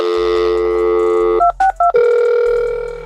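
A landline telephone being dialed for a call-quality test: steady dial tone, then three short, clipped keypad tones in a quick row, followed by a ringback-style tone, close and loud with no talking.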